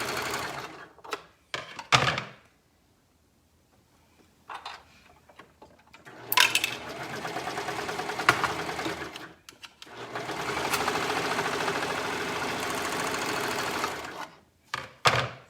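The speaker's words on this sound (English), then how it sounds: "we're going to go ahead and sew the shoulders on both of these pieces together" A sewing machine stitches the shoulder seams of a garment in several bursts, a close rapid mechanical whir starting and stopping with pauses, clicks and fabric handling between runs, the longest burst near the end.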